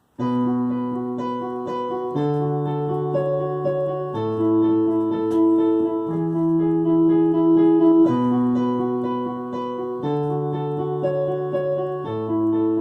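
A piano plays a repeating intro riff, a steady rocking pattern of low bass notes and chords, sustained and moderately loud with no voices.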